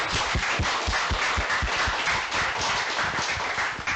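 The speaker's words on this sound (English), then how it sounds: "we wanted to give a group round of applause" Steady, dense applause from a seminar audience, many hands clapping continuously at close range with no voices over it.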